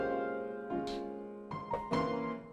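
Piano notes played through a lo-fi compressor plugin, a few sustained chords with soft attacks, heard alone without talk.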